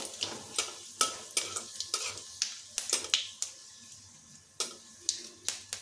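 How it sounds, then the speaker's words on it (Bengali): A bay leaf, a dried chilli and panch phoron fry in hot oil with a crackling sizzle, broken by sharp, irregular clinks and taps of a spoon against the pan, close up and with no talk. "এখন ওই তেলে দিয়ে দিচ্ছি একটা তেজপাতা একটা শুকনো লঙ্কা আর অল্প পাঁচ ফোড়ন ফোড়নটা এখন একটু ভেজে নেবো"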